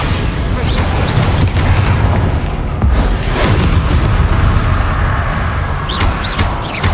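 Bombarda spell blasts in Hogwarts Legacy gameplay: loud, booming explosive bursts rumble heavily and continuously, with crackling impacts layered among repeated detonations.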